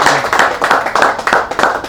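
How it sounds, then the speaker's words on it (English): A live audience at a pro football handicapping show applauds the panel: loud, close, steady clapping from many hands, dense and continuous throughout, with no speech over it. "let's give a round of applause"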